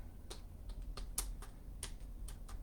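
Someone types on a computer keyboard: a quiet, steady run of light clicking keystrokes at an uneven pace, with no talk over it.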